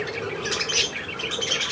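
Pet budgerigar squawking and chirping in a steady, busy burst of shrill calls, close and fairly loud, with no talking over it.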